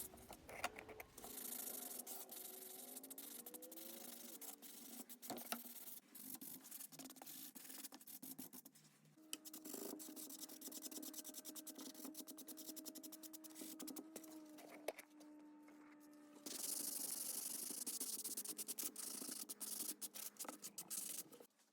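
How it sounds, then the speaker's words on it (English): Steady hand sanding of wood filler with a 100-grit sanding sponge, continuous rasping strokes rubbing back and forth close up, uninterrupted for the whole stretch. "I'm back with my sanding sponge, 100 grit, just smoothing down that wood filler."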